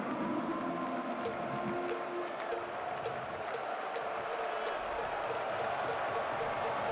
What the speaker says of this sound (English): Time to rev up the Big House crowd one more time